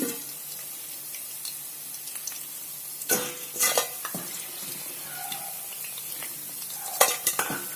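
Fish pieces frying in hot oil for a crispy fish fry give a steady close sizzle, broken by a few sharp utensil clatters and scrapes near the middle and end.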